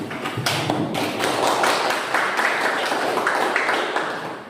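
Students in a classroom clap for each other after a static electricity experiment, a dense burst of hand claps sustained for several seconds at close range.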